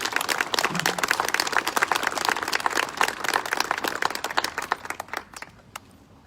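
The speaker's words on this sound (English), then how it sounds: "how about a quick round of applause for our city officials?" Audience applause for city officials at a Veterans Day speech: a dense burst of many hands clapping, steady and fairly close, then thinning and fading out over the last second.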